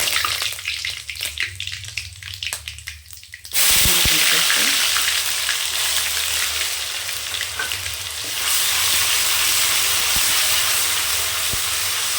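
Curry leaves hit hot oil, with mustard seeds and urad dal already in the pan for mutton fry: a quiet stretch gives way to a sudden loud, steady sizzle and hiss that carries on close and strong to the end.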